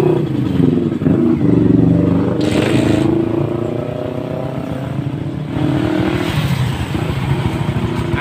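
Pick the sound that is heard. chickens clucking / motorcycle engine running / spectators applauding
motorcycle engine running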